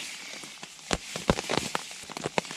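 Rain falling during a wet-weather hike on the Pacific Crest Trail, a steady patter with scattered sharper drops striking a nearby surface such as a tent, close and fairly quiet with no voices.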